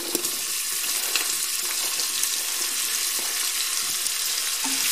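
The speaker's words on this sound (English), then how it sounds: "And now I'm going to add celery and onion." Chopped celery and a medium onion sizzle as they cook in a pot for New England clam chowder, a steady close hiss of frying with faint clicks from stirring and no talk.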